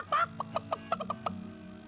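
A person imitates a hen with a quick series of short, clucking vocal bursts, rising and repeating about eight times in under two seconds.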